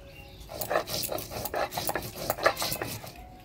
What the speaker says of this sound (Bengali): এবার আদা, ধইনা, জিরা একসাথে বাইটে নেব।